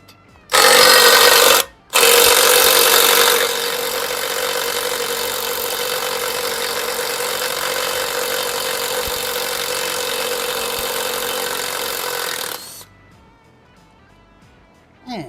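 Pneumatic impact gun breaking loose seized, tightly locked bolts during an LS 6.0 engine swap on a C30 truck, a loud continuous whirring rattle after two short bursts, then fading out.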